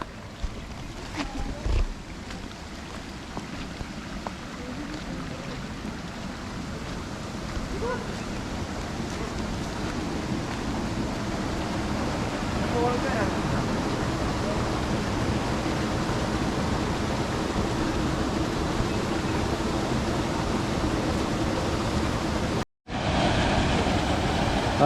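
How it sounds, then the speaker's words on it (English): Small waterfall with low water flow in a forest setting, a steady broadband rush of falling water heard close and continuous for nearly the whole stretch, with a brief dropout near the end. "It's not a very big waterfall, it's just a tiny one"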